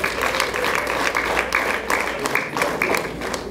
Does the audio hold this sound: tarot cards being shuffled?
no